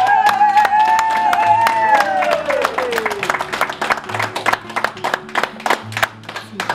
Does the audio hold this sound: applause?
yes